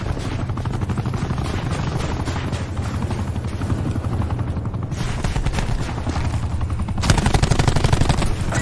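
In a Call of Duty Black Ops 4 match, an attack helicopter's rotor thumps loudly and continuously while rapid machine-gun bursts rattle over it, growing louder near the end.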